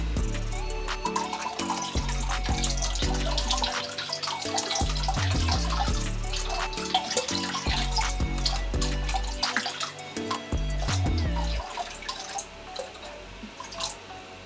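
Liquid bacteria starter pours into the water of a marine aquarium, giving steady splashing and dripping with a gurgling trickle that continues throughout before tapering near the end.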